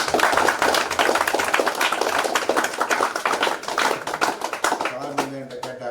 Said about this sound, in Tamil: ஜோராக கைதட்டுங்க